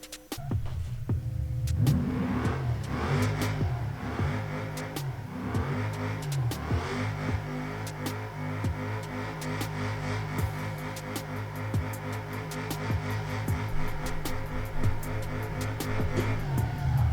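A modded car test-driven on the test map in BeamNG Drive, its engine droning and revving steadily and loudly throughout with no talking.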